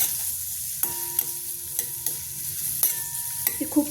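Finely chopped onion sizzles and fries in hot oil, with steady close crackling and several sharp stirring scrapes and clicks of a utensil against the pan.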